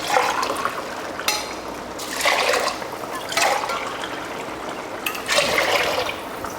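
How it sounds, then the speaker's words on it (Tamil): Water is poured into rice in a pressure cooker for a home-cooked Tamil vegetarian lunch, in three separate splashing, gurgling pours with short pauses between them, close and clear. "இப்போ தண்ணி ஊற்றிடலாம்."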